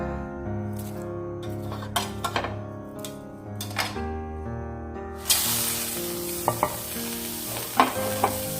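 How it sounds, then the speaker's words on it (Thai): Dried chilies dry-roast in a pan, first with scattered stirring scrapes and taps, then a sudden loud, broad sizzling hiss that carries on with intermittent clatters, close up and with no talking. "เดี๋ยวเราจะคั่วพริกนะคะ"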